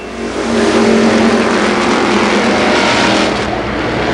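Super late model stock cars race at Columbus Motor Speedway in 1990, a loud, sustained roar of several engines running together close by, with no voices.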